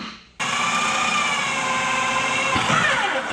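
A power tool drills out spot welds on a car core support for an H22-swapped Honda Civic hatchback. The whine is loud, continuous and high-pitched, starts abruptly after a quiet moment and shifts in pitch near the end.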